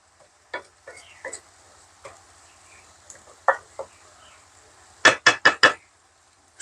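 A gas stove, lit for the first time in a long while, clicks as its igniter fires: scattered sharp ticks, then a quick burst of four louder clicks near the end, with no talking.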